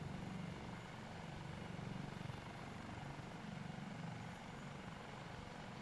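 A Dauphin helicopter in a flight simulator game gives off a steady, dense rotor and engine drone that holds at an even level throughout, with no talking.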